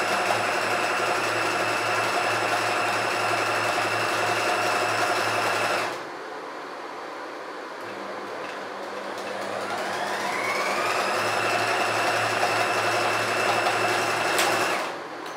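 A sewing machine stitches trouser fabric with a loud, steady whirring drone, stops briefly for a couple of seconds, then ramps back up to full speed and runs on.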